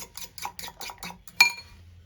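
Eggs whisked with salt and red chili powder in a bowl, the whisk or fork striking the side in a run of about six quick, even clinks, then one sharper knock against the rim before it goes quiet.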